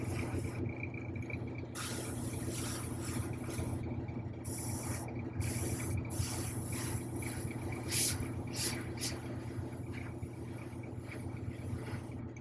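Aerosol spray paint misting onto a figure during priming, a steady close hiss running throughout with brief pauses and bursts as the nozzle is pressed and released.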